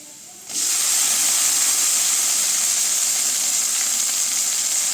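Tomatoes drop into a pan of sautéed onions for a potato and cauliflower kuzhambu, setting off a sudden loud sizzle that settles into a steady, close hiss with no talking.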